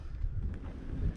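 Wind buffets a microphone outdoors at a scenic overlook during a biking outing, a short burst of low, gusty rumbling with no voices.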